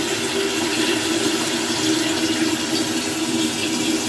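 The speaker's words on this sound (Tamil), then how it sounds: "பைப்பில் இருந்து நீர் எடுக்க போகிறோம்" Tap water runs into a pot during Thai Pongal preparations at home, a steady, loud gushing and filling sound that stays continuous throughout with no talk over it.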